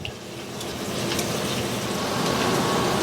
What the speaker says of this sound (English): We're going to dip our Texas toast in that. And we're going to fry it until both sides are golden brown